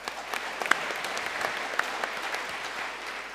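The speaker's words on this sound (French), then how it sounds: "mais on les applaudit, on les félicite également." Steady applause from an audience at an energy transition awards ceremony, dense and continuous clapping with a few sharper individual claps standing out near the front.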